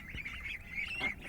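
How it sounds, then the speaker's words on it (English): Ducks quacking and honking in a chicken coop, nearby calls in a few short rough bursts over steady background noise. "So, show me, Bryony, you're going to go and service the ducks, you're going to give them feed and water and collect the eggs."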